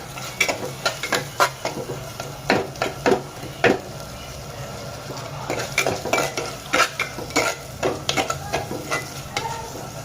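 Masala paste for matka chicken sizzles in a pot while a spoon stirs and scrapes against the metal in irregular knocks over a steady frying hiss.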